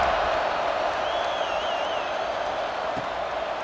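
Stadium crowd in EA Sports College Football 26 roars steadily through a second-quarter kickoff, a constant wash of cheering with a single whistle rising above it, and no voices heard over the din.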